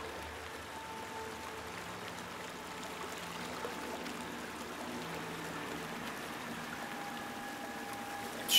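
River water flows in the video game Outlast 2, a faint, steady rushing and trickling wash with no other distinct sounds.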